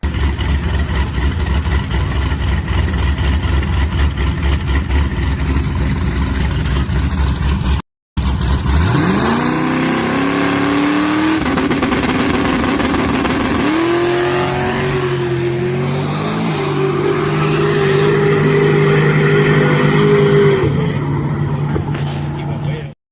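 A drag race car idles at the line, then launches and makes a full pass down the strip, its loud engine climbing through several gear changes with a sharp rising roar before lifting off at the end.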